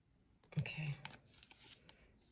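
Tarot cards shuffled by hand during a reading, a brief riffling burst near the start, fairly close and quiet, with soft handling noises trailing after and no talk over it.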